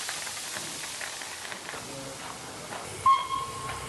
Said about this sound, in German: ein richtiger Dampflok